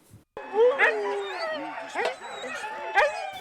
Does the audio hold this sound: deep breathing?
no